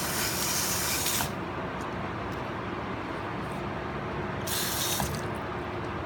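Water sprays steadily while a puppy is washed and rinsed around the ears, a continuous close hiss with louder bursts at the start and again near the end.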